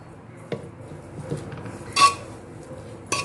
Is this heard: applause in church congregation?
no